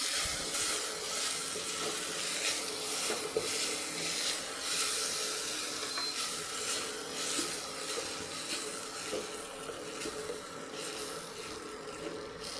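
Beans curry fries in a pan with salt while being stirred, giving a constant close hissing sizzle broken by scraping stirring strokes throughout.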